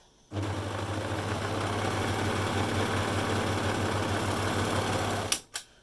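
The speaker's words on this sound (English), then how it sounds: "That's all the overlocking done." An overlocker runs continuously for about five seconds with a rapid, steady mechanical chatter, then stops with a couple of clicks.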